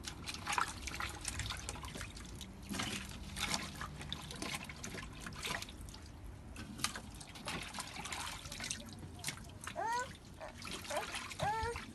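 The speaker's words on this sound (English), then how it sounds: "to wash the cassava and cook it." Cassava being washed in water for African salad, with soft trickling, dripping and occasional splashing in a quiet kitchen, faint and intermittent, plus a few brief chirping sounds near the end.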